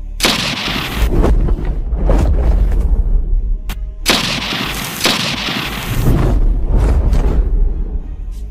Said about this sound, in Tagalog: Malulutong na putok ng baril ang pinakawala ng mga kidnapper sa aswang na humarang sa kanila.